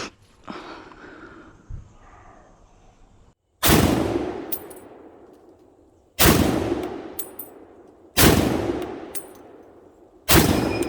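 Loud gunshots from a firearm after a jam is cleared, four sharp booming blasts spaced a couple of seconds apart, each followed by a long rolling echo, with a metallic clack from the action before them.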